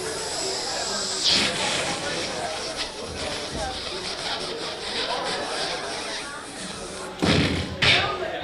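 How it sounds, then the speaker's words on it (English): A lit cannon fuse hisses steadily at a gallery performance, with a broad rushing noise beneath crowd chatter and a few loud thumps. "And light this cannon."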